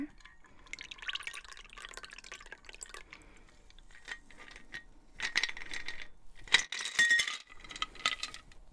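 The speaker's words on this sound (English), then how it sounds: "So I'm gonna pour it into this" A shaken cocktail is poured into a glass: scattered clinks and trickling liquid, with a louder burst of pouring and ice chinking toward the end, close and quiet with no talk.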